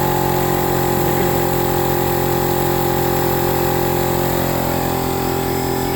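An ARCOLift oil extractor pumps engine oil with a loud, steady mechanical hum and drone that holds constant throughout, close up and without talk.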